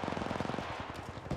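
Rapid automatic gunfire in Apex Legends Mobile, a fast steady stream of shots lasting about a second, close and fairly loud, followed by a couple of scattered shots.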